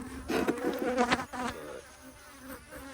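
Bees swarm and buzz around an opened beehive, a steady, dense, close insect drone that swells louder in the first half and then eases back.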